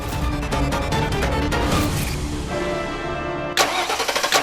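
Car engine cranking as it is made to start, rapid rhythmic starter chugging in repeated bursts, close and fairly loud, with a pause before another cranking attempt.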